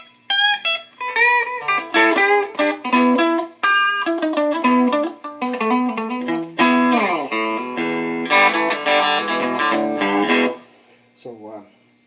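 Bright, twangy electric guitar played clean through a single-coil Stratocaster bridge pickup, a run of plucked notes and chords with a sharp trebly edge, loud and close, ending with a brief pause.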